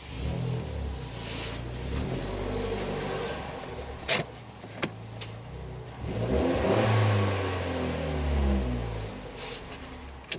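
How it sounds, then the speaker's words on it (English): A car with an exhaust leak runs and accelerates on the road, its engine giving a rough, uneven sputtering drone with rising revs and a few sharp pops, heard from inside the vehicle. "Sputter, sputter, sputter. Exhaust leak."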